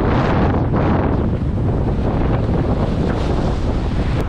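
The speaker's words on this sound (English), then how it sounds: "we got some waves to deal with, but I think it might be worth coming out here. This chop, look at this chop" Strong wind buffets the microphone while choppy waves slap and wash against a pier on Lake Erie, a loud, continuous roar with no voices.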